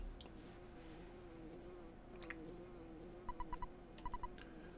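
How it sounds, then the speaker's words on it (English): A bee buzzes in the SNES-era role-playing game Earthbound: a steady, moderately loud drone runs throughout, with short clusters of bright electronic beeps near the end. "Do you hear a buzzing that sounds like a bee flying around?"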